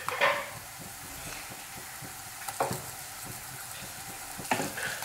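Chilli paste sizzles in a hot pan with a soft, steady crackle while a spoon stirs it, making occasional scraping knocks against the pan; close but fairly quiet, with no talking.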